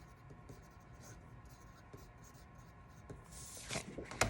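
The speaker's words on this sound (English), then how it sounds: "also I'm gonna write my name on the back" A pen writes a name on the back of a sheet of paper, close and faint: soft scratchy strokes in short bursts with a few light taps and rustles near the end.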